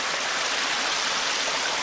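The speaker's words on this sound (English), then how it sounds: "I can just walk right through the stream here, almost." Small stream of water on a nature trail flowing steadily close by, a continuous broad rushing wash with no voices.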